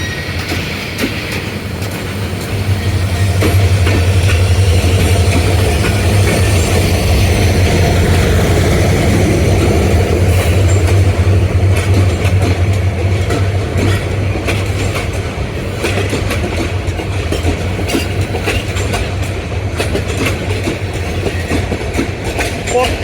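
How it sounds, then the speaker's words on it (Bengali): Two long passenger trains, the Burimari Express and the Sonar Bangla Express, move out of Dhaka's Airport railway station: a loud, continuous low engine drone with clattering wheels and occasional squeals, steady for the whole stretch. "এটা হচ্ছে লালমনি রংপুর কুড়িগ্রাম বুড়িমারি এক্সপ্রেস, সোনার বাংলা এক্সপ্রেস। বিমানবন্দর থেকে ছেড়ে যাচ্ছে"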